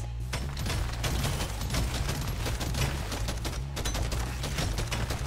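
Gunfire in the video game Deep Rock Galactic: Survivor: dense, rapid bursts of shots in a near-continuous fusillade over a low synth drone, loud and close.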